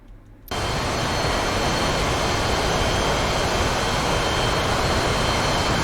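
Jet aircraft engine in the War Thunder combat flight game, a roar that starts abruptly after a short quiet moment and then holds as a steady, loud, broadband rush with no talk over it.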